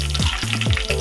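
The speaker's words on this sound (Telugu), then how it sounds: "ఇప్పుడు నూనె వేడెక్కిందండి, కొంచెం జీలకర్ర వేస్తున్నాను." Cumin seeds and green chillies hit hot oil in a pan, giving a steady close sizzle with bursts of crackle, alone with no talk.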